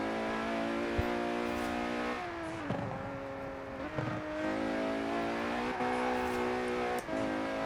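Engine of a big, heavy Mercedes driven in Forza Horizon 4, a steady droning hum that shifts pitch a few times as the car changes gears or speed, moderately loud with no talk.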